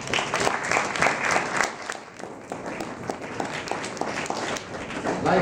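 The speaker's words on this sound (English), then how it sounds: "I think you ought to be giving yourselves a round of applause." Audience applause at a student awards ceremony in the Bahamas: dense, steady clapping from a large crowd filling the room, dipping briefly midway before swelling again.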